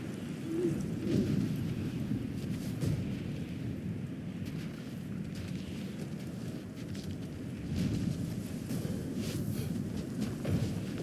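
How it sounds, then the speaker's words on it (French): Storm ambience from the video game God of War Ragnarok: a steady low rumble of thunder and rain with rolling swells that fill the whole stretch at moderate level, with no talk over it. "Ce n'est qu'un peu d'orage."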